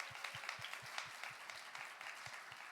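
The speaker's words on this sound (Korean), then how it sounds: "31기 랩넌트들을 위해서 박수로 축복하고 격려합시다." A university group congregation at a Seoul church gives sustained, fairly faint applause to welcome newcomers. The clapping is dense and even, with a soft rhythmic thumping beneath it.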